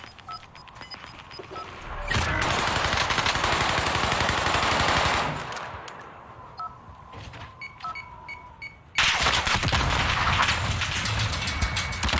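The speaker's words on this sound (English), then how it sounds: "Troops in contact. Bullets everywhere!" Video game firefight with troops in contact: bursts of automatic gunfire and shots ring out loud and dense, a rapid-fire spell early on, then scattered reports, then another loud sustained barrage at the end; no talking.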